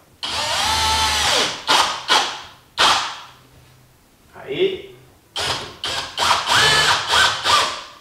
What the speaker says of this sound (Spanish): Le voy a hacer unos taladritos con una broca de madera